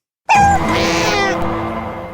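A single cat meows loudly and close, a long drawn-out call with a rising, wavering tone that lasts about two seconds and fades at the end. No voices are heard.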